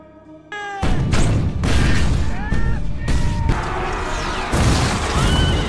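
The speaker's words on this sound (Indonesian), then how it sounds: "Saat pasukan Jepang menembakkan meriamnya" Loud booming cannon blasts from the Japanese army in a film battle scene, several heavy impacts in a row with a dense rumble and crashing debris between them.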